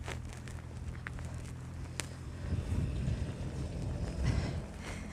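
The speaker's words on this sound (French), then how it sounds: "le vent, je pense que vous l'entendez malgré le micro" Wind gusts buffeting a microphone outdoors, a steady low rumble that swells into louder bursts around the middle and again near the end, with no voices.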